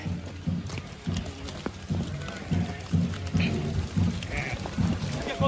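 A lamb bleats several times in short cries, fairly close, amid shuffling hoof sounds and some faint background voices.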